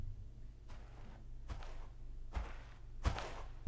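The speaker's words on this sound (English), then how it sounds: "as you can hear, like the footsteps" Footsteps of a man walking in a suspenseful film score: four soft, evenly spaced steps, roughly one every three-quarters of a second, sitting over a low, steady drone.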